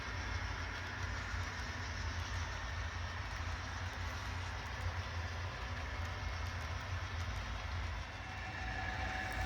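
A model train rumbles and rattles steadily along the track throughout, fairly quiet, with no voices.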